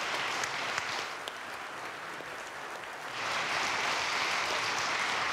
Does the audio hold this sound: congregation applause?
yes